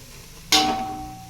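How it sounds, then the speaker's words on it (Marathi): Spices hit hot oil for spicy toor dal with a sudden loud sizzle that flares up at once and then fades slowly into a softer, steady frying hiss. "आणि हे चांगलं तळून घ्यायचे आहे मसाले"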